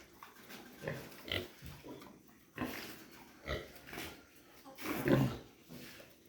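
Native pigs in a piggery on an organic farm grunt and snort in a series of close, uneven bursts, with the loudest cluster near the end.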